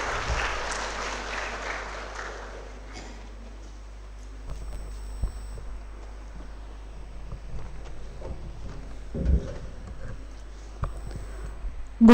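Applause from an audience at an MBBS orientation day ceremony, soft and diffuse across the hall at moderate distance, fading to quieter room noise partway through with scattered claps afterward.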